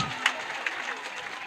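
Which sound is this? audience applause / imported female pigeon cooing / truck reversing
audience applause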